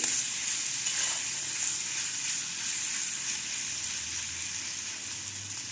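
Cauliflower coated in masala stirred and frying in a pan for Bengali-style gobi palak, a steady close sizzle with light scraping stirs, no talk.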